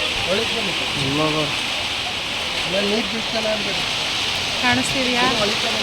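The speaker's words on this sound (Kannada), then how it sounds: "ಫುಲ್ ಜೋರು ಮಳೆ ಆಗೋಯ್ತು" Heavy rain pours steadily at a busy temple, a dense even hiss throughout, while several people talk and call out over it.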